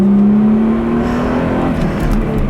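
A 2005 Chrysler Crossfire accelerates in a steady, close engine drone whose pitch climbs slightly, loud and with no talking.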